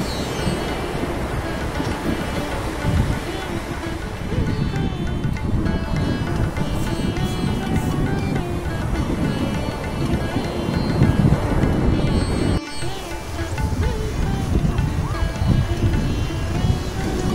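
Sea waves surge and break on a sandy beach, a loud, continuous roar of rushing water with wind buffeting the microphone, a brief dip near the end.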